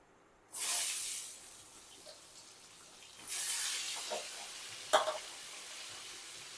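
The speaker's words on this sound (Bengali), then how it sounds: "সব আমগুলো আমি দিয়ে দিচ্ছি এবার ভালোভাবে মশলার সাথে আমটা আমি মিশিয়ে নেব" Raw mango pieces for pickle being fried with spices in oil, with two loud bursts of sizzling as the mango is added, then softer hissing and a sharp scrape.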